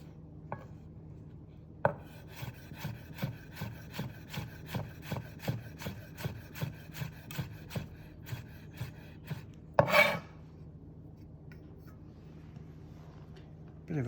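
A knife cuts vegetables into fine julienne matchsticks on a wooden board, a steady run of crisp close taps in quick rhythm, followed by a sharper knock and quiet afterward.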